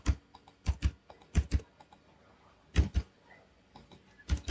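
Keys clack on a computer keyboard while marks are entered into an online college admission form, in short bursts of close, crisp taps with pauses between them.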